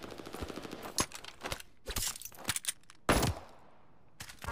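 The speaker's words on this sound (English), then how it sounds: "I'm taking fire!" Video game gunfire, with bursts of automatic shots and scattered single cracks, some close and loud, others distant, over a rough battle background with brief gaps, no talk.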